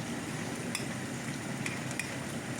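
Pork brain frying with onion in a pan, a steady moderate sizzle with a few sharp utensil clicks against the pan, no voices.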